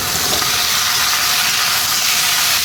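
Yardlong beans and pumpkin fry in a pan with a loud, continuous hiss, a dense close-up sizzle that stays even throughout, with no voices.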